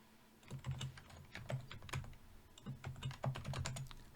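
Quiet, close keystrokes patter on a computer keyboard as a project name is typed, an irregular run of light clicks with short pauses between them.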